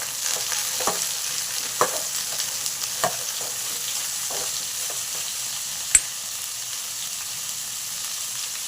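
Vegetables (onion, carrot and tomato) being stirred together in a pan for sambar, a steady soft sizzle with a few distinct scraping clinks of the spoon, one sharper knock near the end, no talking.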